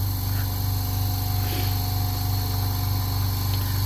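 An air compressor runs steadily while filling its tank for airbrushing, a constant low droning hum with a faint rattle, close and unbroken from start to finish.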